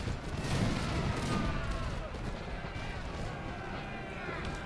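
Massed artillery canister fire and musketry from a Napoleonic battle in Napoleon Total War, a dense continuous crackle of distant shots over a low rumble, steady throughout with no clear single blasts.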